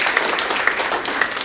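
Audience applause fills a large room at an all-associate company meeting, with a steady, dense wash of clapping held at an even level for the full short stretch and no speech over it.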